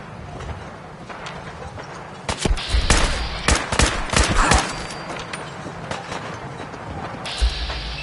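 Fallout 4 gunfire crackles in rapid bursts of sharp shots mid-clip. Quieter stretches with footsteps and ambient game noise frame the shots, and a final single report comes near the end.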